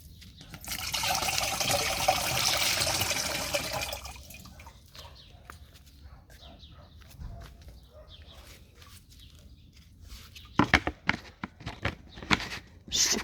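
Liquid tank mix for spraying cucumbers pours in a steady splashing stream for a few seconds, then fades to quiet drips, trickles and a few sharp knocks and clinks.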